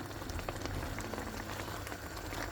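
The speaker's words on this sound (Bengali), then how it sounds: "খুব ভালোভাবে বলক চলে এসেছে" Semai pudding mixture bubbles at a rolling boil in a pot, a dense faint crackle of popping bubbles and spatters, steady and soft with no voices.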